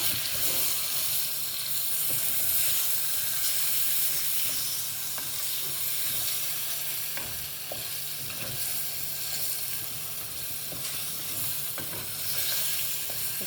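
Chicken biryani masala sizzles steadily as it is fried and stirred in a pan, with a constant frying hiss and occasional soft scrapes and clinks of the spoon.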